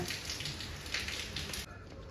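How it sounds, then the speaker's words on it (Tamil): Light drizzle falls steadily in a hilly area, a soft, even hiss of rain that holds for a couple of seconds before thinning slightly near the end. "மழை தூரிக்கிட்டே இருக்குதுங்க"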